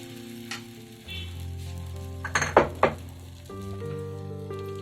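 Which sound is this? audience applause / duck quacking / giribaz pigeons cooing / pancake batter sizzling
pancake batter sizzling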